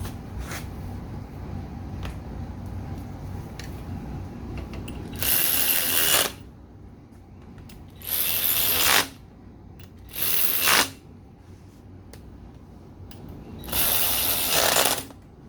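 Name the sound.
tightening bolts on Moto Guzzi V1000 rear wheel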